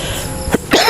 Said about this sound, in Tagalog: may inuubo tayo